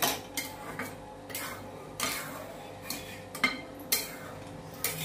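A spoon stirs jaggery porridge mixed with fried dry fruits and cardamom powder in a pot, making rhythmic scraping clinks against the metal roughly every half second, close and fairly quiet, with no voices.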